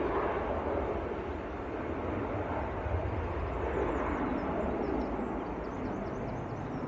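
A TUI airliner takes off at Manchester Airport, its engine roar a steady, distant broadband rumble that fills the scene without breaks, faint birdsong drifting above it.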